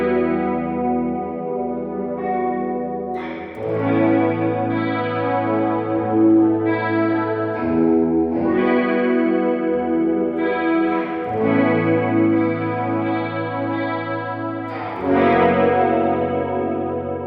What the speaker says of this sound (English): there's a variety of sounds you can get out of this digital reverb pedal by Behringer